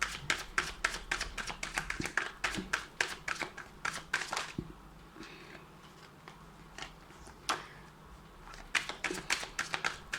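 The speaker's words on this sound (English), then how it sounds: "I'm just gonna shuffle it again for you guys, for Aquarius" Tarot cards shuffled by hand in a quiet room make a rapid, close run of crisp riffling flutters and taps, stopping for a few seconds midway and then starting again.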